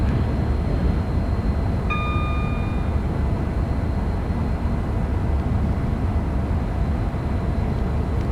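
Class 390 Pendolino on the West Coast Main Line in Train Sim World, drawing alongside a freight train: a steady, loud rolling rumble throughout, with a brief high tonal whine near the start.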